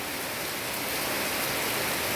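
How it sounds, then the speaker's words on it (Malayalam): Heavy rain pours down outside a house yard, a dense, even hiss that stays loud and unbroken throughout. "കണ്ടോ മഴ പെയ്യുന്ന കണ്ടോ?"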